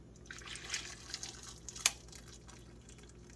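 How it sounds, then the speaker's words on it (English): Boiling water poured over blueberries and cherries in a kitchen, a thin liquid trickle with soft drips and a sharp splash near the middle, fairly quiet and with no talking. "boiling water,"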